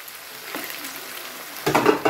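Ackee goes into a hot pan and a soft sizzle swells suddenly into louder frying with a clatter near the end, heard close up with no voices.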